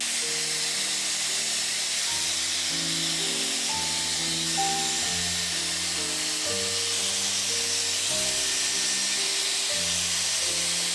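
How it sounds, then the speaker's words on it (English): A Dyson Airwrap hair styler on high airflow and medium heat blows a steady, even rushing hiss throughout, with soft background music playing underneath. "I am setting my Dyson Airwrap on high airflow and medium heat."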